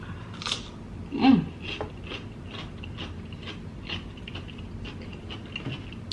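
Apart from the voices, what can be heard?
eating a cucumber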